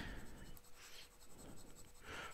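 Fountain pen nib scratching softly across paper in a few quick strokes, faint and close, with quiet rustling between the strokes.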